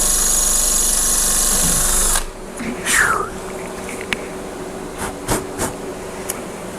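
Power drill boring with a titanium twist drill bit, a loud steady whine that cuts off after about two seconds, followed by quieter shuffling and a few short clicks and knocks.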